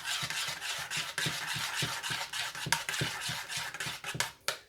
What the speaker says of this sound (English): Keep stirring it up.